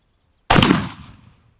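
A high-speed gun fires a single shot sending a sabot downrange in a Mach 4 attempt: one sharp, loud blast that cuts in after a short silence and decays over about a second.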